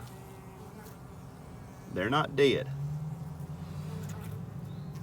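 Honey bees buzz in a low, steady drone close by, a brief louder burst of buzzing rising as a voice speaks over them.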